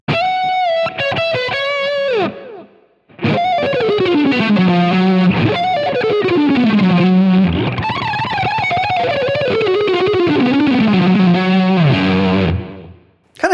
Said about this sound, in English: Now that delay I was telling you about, let's bring it in. It's very subtle.